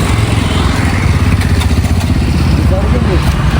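A Kawasaki Z900 motorcycle, just broken down with a suspected battery problem, runs with a loud, steady, close engine drone throughout, while people talk over it.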